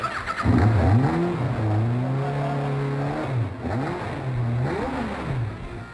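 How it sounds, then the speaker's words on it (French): Race car fitted with a Yamaha XJR 1300 motorcycle engine, revving up and down in several strong sweeps, loud and close, with no talk over it. "ce petit moteur de 1300 XJR, quand même déjà un gros moteur de moto"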